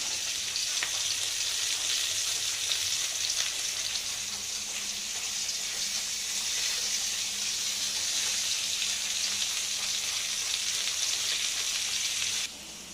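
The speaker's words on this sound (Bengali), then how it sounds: "এদিকে মাছ ভাজি শুরু করে দিচ্ছি" Fish fries in a pan with a loud, continuous close-up sizzle and crackle that holds steady throughout, dropping abruptly at the very end.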